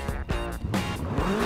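A 1974 Toyota Celica races in Forza 5, its engine revving and shifting with rising tones and brief tire squeals, loud and close throughout with no talking.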